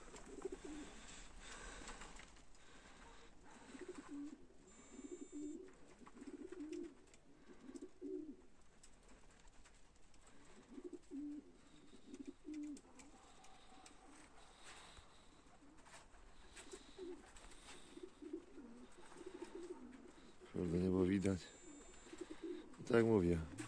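Homing pigeons cooing at a loft, a steady low murmuring of coos through the clip with louder, closer calls near the end, under a quiet background.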